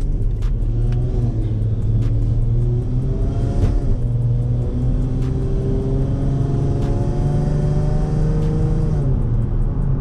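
Infiniti G35 coupe engine running steadily while driving, a continuous low rumble with a smooth, faintly rising tone, close and loud inside the cabin, with no talking.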